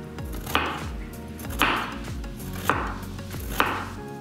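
A carrot is sliced into smaller pieces on a cutting board, four evenly spaced knife chops landing about a second apart, close and clear without talk.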